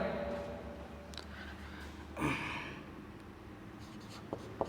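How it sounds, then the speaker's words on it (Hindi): Chalk or marker strokes on a board during a Class 10 maths lesson, quiet and brief with one clearer scraping stroke midway, heard against faint room noise with no talking. "तो यहाँ पे लिखेंगे हम"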